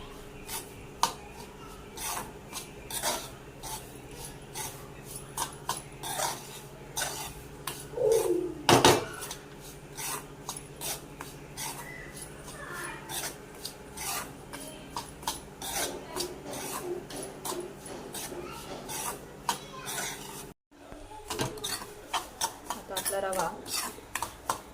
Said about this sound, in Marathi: आता आपला रवा थोडासा भाजत आलाय।